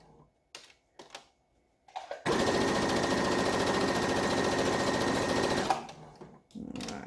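A sewing machine stitches the lining of a fabric bag in one steady, fast run of about three and a half seconds, close and loud, with quiet handling noises before and after.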